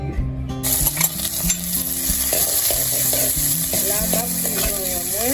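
Onions sizzle steadily in a hot pan for Haitian barbecue sauce, a continuous close frying hiss with intermittent clinks and scrapes of stirring, and music tones playing underneath throughout.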